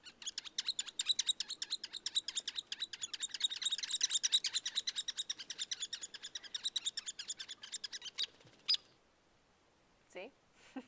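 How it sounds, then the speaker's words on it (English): Rapid, high squeaky bird calls like a squeaker toy, repeating in a quick continuous series, then a few separate squeaks after a short pause, at Bluff Lake near Big Bear Lake in June. "they totally sound like a squeaker toy"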